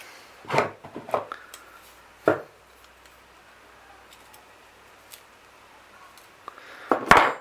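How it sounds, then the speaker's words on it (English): Scissors snip off excess material while a masthead VHF and AIS antenna is fitted on a sailboat: a few close, crisp cuts in a short cluster, a single snip, then a louder final cut after a quiet pause. "Snip all of that lot off of there."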